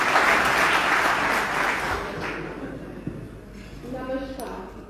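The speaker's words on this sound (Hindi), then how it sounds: "जोरदार तालियों से उनका स्वागत होना चाहिए।" Loud clapping from an audience at the closing session of an international environment summit in Dubai fills the start, then fades out as the room settles and a few faint tonal sounds come through.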